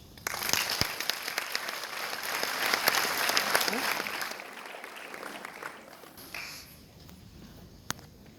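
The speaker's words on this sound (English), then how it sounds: "A big round of applause" An audience claps for the judges at a girls' final performance event, with a dense burst of applause that swells, then tapers off into scattered claps, with some voices mixed in.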